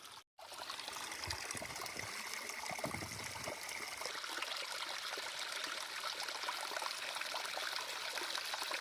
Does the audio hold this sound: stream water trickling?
yes